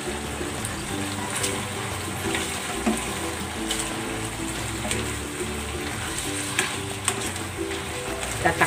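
Cabbage and bell pepper sizzle and fry steadily in a pan with shrimp and mixed vegetables, a dense crackling hiss with occasional stirring clicks and pops running throughout.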